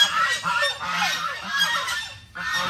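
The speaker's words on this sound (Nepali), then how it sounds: "राजा हाँस अगाडिको हिँडेपछि लाइनै हिँड्नु पर्ने" Geese walking in a line at a lakeside honk loudly and continuously, with overlapping calls from several birds close by and a brief lull near the end.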